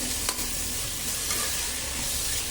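Shredded coconut, cumin and green chilli fry in a pan for mango chitranna, giving a steady, loud sizzle with stirring scrapes that runs without a break and with no voice over it.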